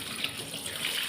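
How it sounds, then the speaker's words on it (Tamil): Curry leaves are rinsed under a running kitchen tap, a steady, even stream of water splashing continuously at moderate volume. "கருவேப்பிலையை கழுவிட்டு போட்டுக்கலாம்"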